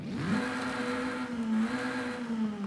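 A front-wheel-drive car's inline four-cylinder engine in Forza Horizon 5 revs up quickly, then holds a steady, buzzing drone with slight pitch dips, close and fairly loud.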